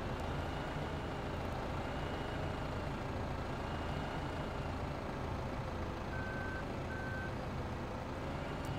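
A tractor in Farming Simulator 2015 driving over grass, its engine a steady, dense drone with a brief double beep near the end.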